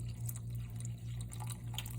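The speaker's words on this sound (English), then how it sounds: "So we're gonna pour the water in." Water poured from a can into a pot of arroz con gandules, a steady continuous liquid pour with soft splashing and dripping, close and fairly quiet, running throughout without talk.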